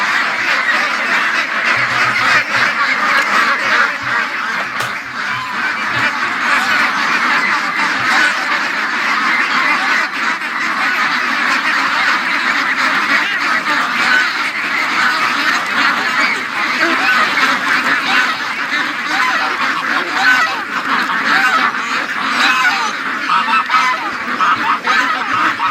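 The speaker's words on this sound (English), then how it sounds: "let's let the ducks out here" Flock of farm ducks and geese honking and quacking loudly and continuously, a dense overlapping chorus of calls close by that never lets up for over twenty seconds.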